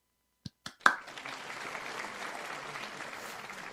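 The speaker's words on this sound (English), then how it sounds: "So can we just say, yes, Andy, give us a big round of applause for independent media and for the Don Lemon Show team" A few sharp individual claps open a burst of studio audience applause that swells into steady, moderately loud clapping lasting a few seconds.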